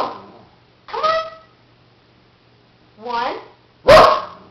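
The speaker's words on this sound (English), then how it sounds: "Bark one, Butter." A dog barks on command in a counting game, giving three separate sharp barks spaced about a second or two apart, close and loud, with a person speaking briefly between them.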